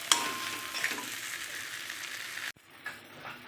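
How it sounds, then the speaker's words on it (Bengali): Prawns frying in spice paste in a pan, a steady close sizzle that runs for about two and a half seconds, then drops off sharply and continues more faintly. "এর সাথে মানে ভেজে নেবো চিংড়ি মাছটা"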